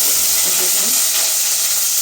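Mustard seeds crackling in hot mustard oil on low heat while tempering for a tamarind okra curry, a loud, steady close-up hiss and sizzle throughout.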